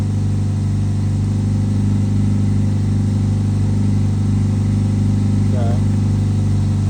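A 2001 Chevy Prizm with a 1ZZ-FE engine running steadily at 1500 RPM during idle air control testing, a loud continuous hum with no change in pace, close up.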